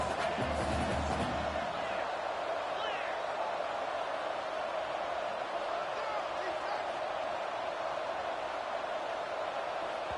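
Steady roar of a stadium crowd in a college football game, a loud wash of noise that holds throughout, with a commentator talking over it.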